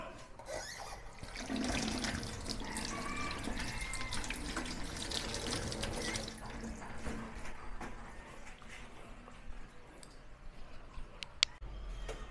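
Water splashes and trickles steadily nearby as a Whirlpool washing machine with an E12 drainage fault is cleared of a clog, soft and continuous with occasional drips and small clunks, no talking.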